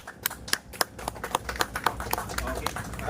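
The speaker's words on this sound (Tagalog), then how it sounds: "Palakpakan naman po natin." Applause for the second-place winner at a fishing competition, a burst of sharp hand claps that builds into a steady patter, with voices chattering in the crowd.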